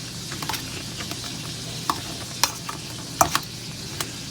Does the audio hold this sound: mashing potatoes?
yes